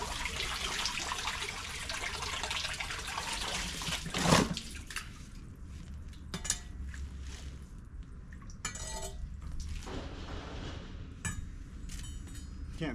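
Water gushing from a freshly opened line beneath a set of grandstands, a loud rushing spray that cuts off abruptly, followed by scattered drips, clinks and faint trickling in a quieter space.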